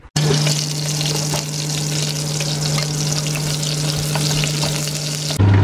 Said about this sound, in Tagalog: ginigisa ko muna ng kaunti yung chicken